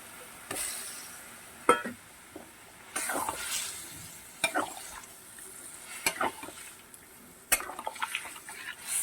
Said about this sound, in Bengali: ভাজা বেগুন বড়িটা দিয়ে দেবো।